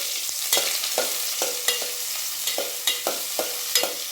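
Onions fry in a pan with a constant bright sizzle, punctuated by regular scraping stirs roughly twice a second, close up with no voices.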